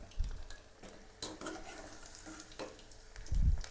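Chicken 65 pieces fry in hot oil on a low flame while a spoon stirs them, giving a steady sizzle broken by scraping strokes and clinks against the pan.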